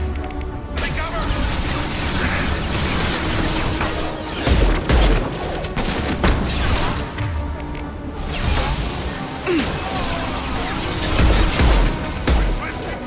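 Heavy combat in the video game Mass Effect 2, with sustained loud gunfire, crashes and booming impacts layered over constant battle noise, while voices call out amid the chaos.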